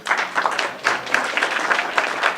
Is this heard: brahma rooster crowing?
no